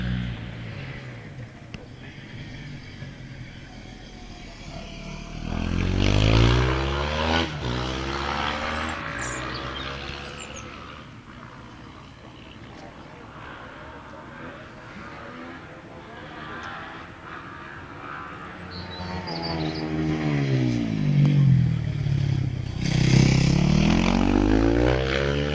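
An Aprilia SKV motorcycle races up the Wiscombe Park hillclimb course, its engine note rising in loud revving surges early on and again near the end, with commentary running underneath.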